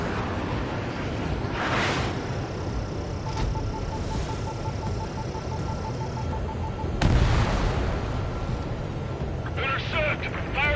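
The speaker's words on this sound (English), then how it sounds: "Intercept! Fire the AA!" Anti-aircraft fire in a combat video game, steady thudding bursts and distant booms under a constant engine drone, with a heavier blast midway and radio voices talking over it.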